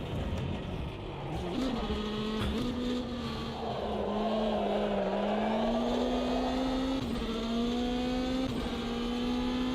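Race car engines in the Automobilista 2 racing game drone loudly and continuously, pitch climbing and dipping through gear changes, with tire noise layered over the sustained roar.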